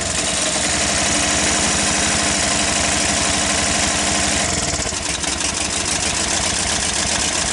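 A Sunl 110cc ATV engine runs loud and close, a steady, rough, buzzing idle that fills the whole stretch and shifts tone slightly partway through.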